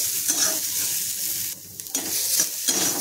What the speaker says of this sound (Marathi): आता इथे आपण कांदा भाजून घेऊया